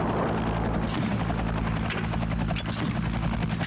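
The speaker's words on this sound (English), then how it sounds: "An Afghan Air Force Mi-8 attack helicopter arrives." An Afghan Air Force Mi-8 attack helicopter flies overhead, its rotor beating in a loud, rapid, continuous chop over a heavy engine drone, close and steady throughout.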